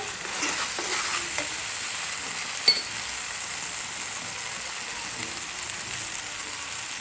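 Spice masala sizzles and is stirred steadily in a pan for prawn bhuna, a soft continuous frying hiss with a single sharp utensil clink partway through, no voices.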